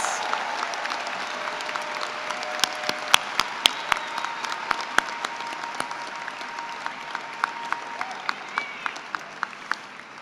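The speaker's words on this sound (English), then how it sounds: "Please give a big round of applause to all CAMD graduate students." A graduation ceremony crowd applauds in a sustained wash of clapping, with sharp individual claps standing out, gradually thinning toward the end.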